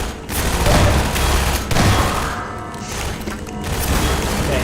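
Gunfire in Half-Life 2 Episode Two, dense bursts of shots and loud impacts rattling together in a chaotic firefight, close and heavy with mechanical clatter mixed in.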